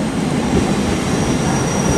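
A train runs through platform one at Sevenoaks station, a loud, steady rumble of wheels on rail with a faint high whine above it.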